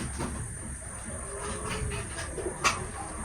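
Pigeons at a pigeon farm, kept under mosquito netting and including racer and golden breeds, coo softly and faintly over a low background hum.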